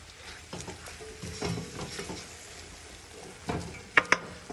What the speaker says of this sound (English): I'm just going to throw that all in together, give it a quick stir, combine all those flavours